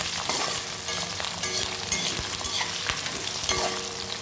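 Onions sizzling in hot oil in a pan for ennai kathirikai, a continuous bright crackling fry broken by repeated scraping stirs of a spoon, close and fairly quiet, with no talking.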